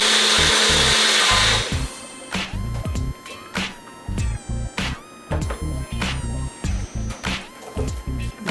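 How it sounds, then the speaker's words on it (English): Dal being ground in a blender with all the ingredients inside: a loud continuous whir for about two seconds, then a series of short, stuttering pulses of the motor starting and stopping, close up with no talk. "So we grind dal with all the ingredients inside."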